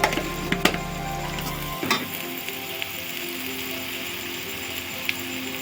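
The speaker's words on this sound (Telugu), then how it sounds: "ధనియాల పౌడర్ వేసుకున్న తర్వాత మనం చక్కగా ఇలా కలుపుకోవాలి" Coriander powder and spices are stirred into a sizzling egg curry in a pan, with a utensil scraping and clinking against the pan over a steady soft fry.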